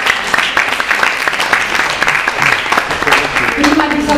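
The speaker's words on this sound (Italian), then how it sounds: "Quindi un applauso" Audience applauding at a book presentation event in Pescara, a dense sustained round of clapping with voices mixed in, loud and close throughout.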